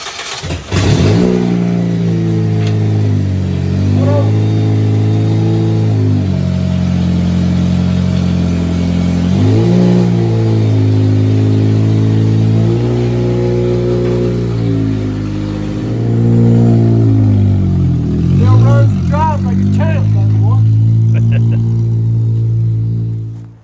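An Acura RSX engine revs repeatedly in loud, rising and falling bursts as the car is driven over to a frame machine in a repair shop, nearby and continuous throughout.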